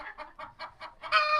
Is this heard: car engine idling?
no